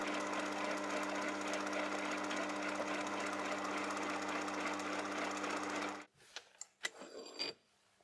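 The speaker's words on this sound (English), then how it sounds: "After making a tiny spot, I follow it with a 2mm drill to make a shallow blind hole" Steady whirring machine hum for about six seconds, then it stops, leaving a few short clicks and taps; a milling machine drilling a 2mm blind hole into brass rod held in a hex collet block.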